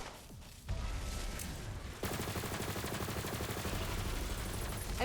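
Rapid automatic gunfire from the video game Borderlands 3, a dense, loud, continuous stream of shots that kicks in after a brief lull and keeps hammering without pause to the end.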